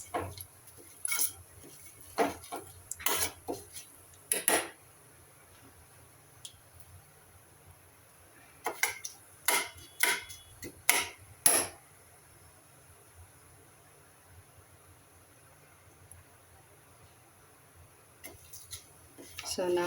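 A spoon stirs cooking herbs around a pan of hot oil, giving bursts of close metallic clinks and scrapes that come and go, with quiet gaps between them.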